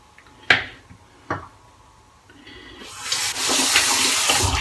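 Running tap water wetting the face for shaving, preceded by two sharp knocks, then a steady rushing stream of water building over the last couple of seconds.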